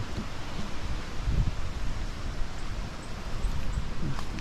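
Steady, blustery wind roars across an open microphone with rustling gusts throughout, no voices present.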